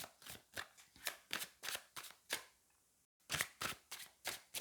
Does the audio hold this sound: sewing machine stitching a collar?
no